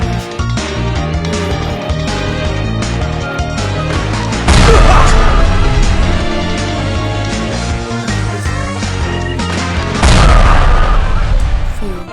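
Shooting and explosions in a video game ring out under loud game music, with two heavy booming bursts standing out from a busy, dense soundtrack.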